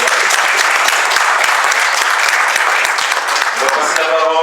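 A loud, dense round of applause fills an event hall at a community project gathering in Namur, continuous and close throughout, with faint voices mixed under the clapping near the end.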